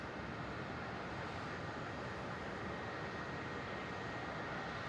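An aircraft taxiing in at Melbourne Airport, heard as a constant broad engine roar and rumble, moderately distant and steady throughout, with no voices.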